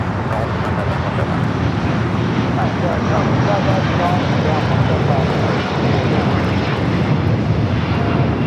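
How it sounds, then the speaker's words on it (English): An El Al Boeing 787-9 Dreamliner takes off at Los Angeles airport, its engines a loud, steady broadband roar that fills the whole stretch without letup. "El Al flight 1304, taking off to Tel Aviv on the 787-9 Dreamliner"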